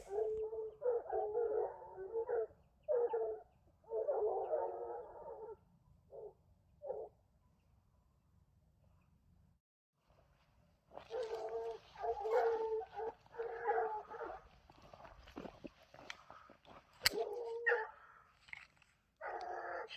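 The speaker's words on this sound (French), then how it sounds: "les chiens sortent du maïs" Hunting dogs barking during an opening-day wild boar hunt by a cornfield and river, with bursts of barks and yips at a moderate distance, a quiet lull midway, then renewed overlapping barking from several dogs.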